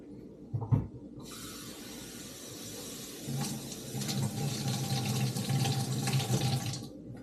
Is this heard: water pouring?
yes